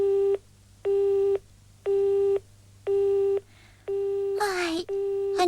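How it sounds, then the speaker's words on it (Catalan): A telephone busy signal beeps in a steady on-off rhythm, five loud even tones, followed by a brief burst of noise like a handset being handled at the end. "en Yunosuke comunica des de fa més de 2 hores."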